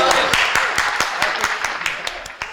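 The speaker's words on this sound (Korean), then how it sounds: "박수." A small group claps for a few seconds, the claps sharp and fairly close, irregular and gradually thinning, with some faint chatter in the room.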